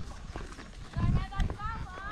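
A tired horse slows to a trot, its hooves clip-clopping in an uneven patter up close while people talk over it.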